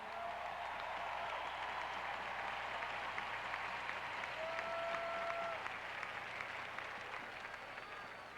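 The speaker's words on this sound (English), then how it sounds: "Stand up and receive some applause for the people here." Distant, steady applause and cheering from a large outdoor crowd at the Toronto Blue Jays' 1992 World Series parade, greeting the front office staff. It is faint but continuous, with a faint tonal whine drifting through.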